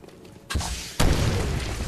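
Grenade blasts in Call of Duty: World at War on an airfield map, two loud booming bursts about half a second apart, the second heavier, each leaving a broad rumbling tail.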